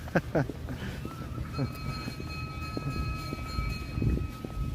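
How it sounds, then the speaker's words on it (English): Low rumbling and clunking of a Toronto streetcar moving off, with a thin, steady electric whine rising above it and a few knocks along the way. "Well, the tram is pulling out."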